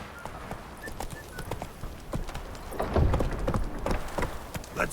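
Hooves of Roach, Geralt's horse in The Witcher 3: Wild Hunt, clip-clopping in a steady rhythm at close range over a rain-like background, with no talking.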